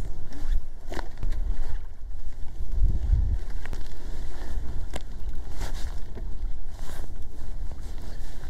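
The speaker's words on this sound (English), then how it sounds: "I have the wind straight in my back" Steady wind blows across the microphone while someone fishes from a boat, a continuous low rumble with gusty swells and a few faint knocks and splashes, and no one speaking.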